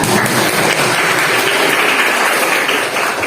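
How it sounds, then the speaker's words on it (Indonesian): A classroom group gives steady, dense applause during a teaching session, loud and continuous for the whole stretch with no speech. "Luar biasa, tepuk tangan untuk kita."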